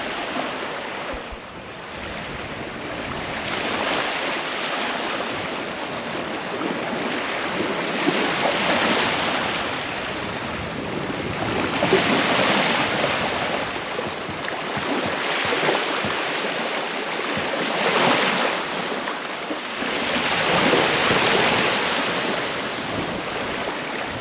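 Sea waves at Cleethorpes beach, calmer at the top of the ebb tide, surge and wash in a steady rolling roar with regular swells. Wind rumbles faintly against the microphone, and no one speaks.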